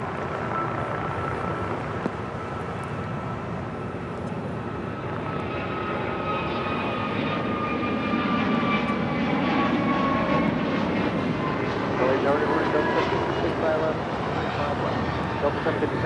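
Airliner taking off at Los Angeles International Airport in a light north crosswind, a steady broad engine roar that builds slightly and holds throughout, with a rising whine over it and faint talk in the background.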